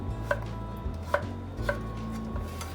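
Knife chopping a beet on a cutting board for a vegan quinoa salad, three distinct cuts spaced out over a low background hum, close and fairly quiet.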